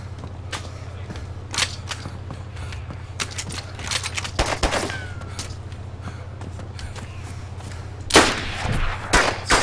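A video game shootout between carbine and Makarov pistol: several sharp, loud gunshots ring out at irregular intervals, with a heavier burst of shots near the end over a steady low background hum.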